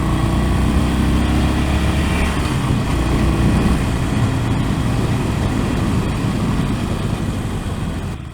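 A Harley-Davidson Sportster Forty Eight motorcycle engine runs steadily and loud up close, a continuous low rumble holding throughout with no speech.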